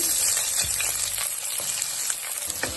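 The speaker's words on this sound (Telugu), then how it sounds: "ఇప్పుడు కడాయి పెట్టి ఆయిల్ వేసి, ఆయిల్ కాగాక దాల్చీని, ఇలాచి, తేజ్పత్త, లవంగాలు కొద్దిగా తీసుకోవాలి." Whole spices (cinnamon, cardamom, bay leaf, cloves) and onions frying in hot oil in a kadai, a dense continuous sizzle with occasional spoon scrapes and crackles, steady and close throughout without speech.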